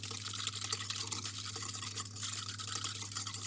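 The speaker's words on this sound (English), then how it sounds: "Whisk it," Rapid whisking of a yeast mixture in a bowl while making homemade donuts, a steady brisk scratchy swishing that runs through the whole moment at close range, with no talking.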